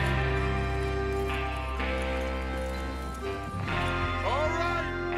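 Horses gallop with rhythmic hoofbeats in the video game Red Dead Redemption 2, the clip-clop sitting under a steady musical score and game ambience, with a brief whinny near the end.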